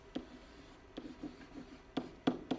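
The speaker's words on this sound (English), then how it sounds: "you just go down with your pencil and just draw a little line through all the E's at the end of each of those base words" A pencil strikes short lines through letters on paper, making a few soft, close scratchy strokes spaced irregularly against a quiet background.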